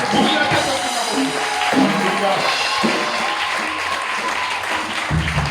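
A church congregation applauds and cheers for the Lord during a French-language service, a loud, dense burst of clapping with voices mixed in, lasting a few seconds.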